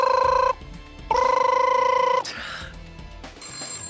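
A telephone bell rings as a sound effect during a DreamHack Masters Spring 2020 CS:GO match broadcast, two loud electronic trills separated by a short pause, then a click and a quieter tone.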